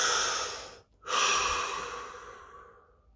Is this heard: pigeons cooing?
no